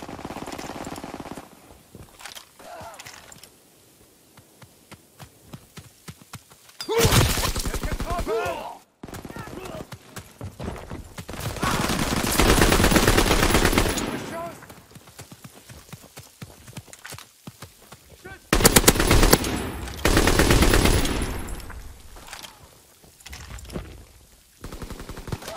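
Gunfire in the online shooter Call of Duty WWII during team deathmatch: bursts of rapid automatic fire and loud blasts come in waves between quieter stretches, with game voice callouts mixed in.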